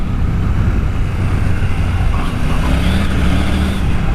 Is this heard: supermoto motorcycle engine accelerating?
yes